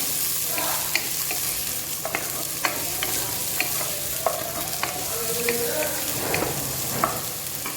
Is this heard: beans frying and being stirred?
yes